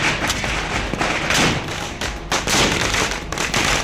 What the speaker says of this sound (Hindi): तोप से गोले दागे जा रहे हैं।